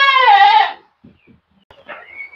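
A goat gives one loud, close, wavering bleat, followed by quiet shuffling and a faint second call.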